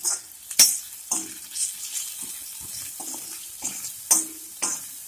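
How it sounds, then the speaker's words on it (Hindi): Spice masala with coriander and garam masala frying in a pan for parwal aloo, giving short bursts of sizzling and stirring with brief quiet gaps between them and no talking. "ये हल्का सा भुन जाए"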